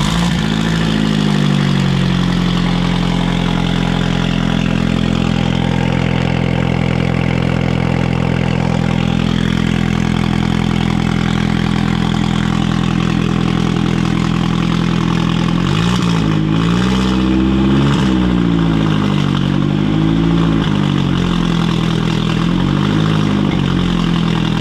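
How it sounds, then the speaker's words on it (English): A Toyota MR2 fitted with a 1.8 20v turbo engine runs loudly and steadily close by, holding a strong idle for about fifteen seconds before the revs rise and fall in several uneven blips. "Turn the fuel pump on. Start the motor with ignition"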